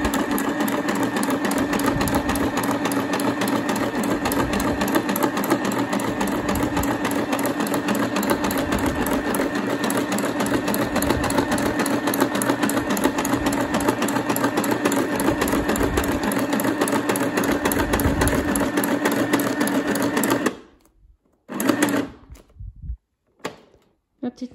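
A beginner's sewing machine, a Stitch Happy, runs steadily while stitching a pouch for an ATC pocket letter. The motor drones continuously for about twenty seconds, then stops, followed by a few brief handling clicks and thumps.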